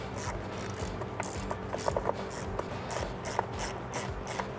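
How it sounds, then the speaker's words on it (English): An 11 mm socket ratchet tightens bolts on an oil catch can bracket for a Ford F-150, giving a steady run of fast, close clicking pawl strokes with a few sharper ticks. "I'm gonna grab an 11 socket and just tighten these guys down"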